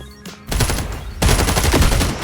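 Rapid automatic gunfire in the video game FragPunk, two loud sustained bursts of fast shots close up, the second starting after a brief gap.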